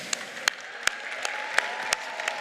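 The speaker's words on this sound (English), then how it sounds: "Let's have one round of applause for our judges." Applause for the judges at a FIRST robotics competition district event, a steady patter of clapping with a few sharper individual claps standing out, moderately distant in a large venue.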